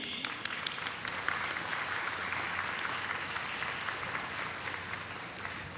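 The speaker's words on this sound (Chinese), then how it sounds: "让我们再次以热烈掌声欢迎友邦贵宾的莅临" At the 2024 Double Tenth National Day ceremony in Taiwan, a large crowd gives foreign guests warm, sustained applause, an even roar of clapping that continues without a break and without speech.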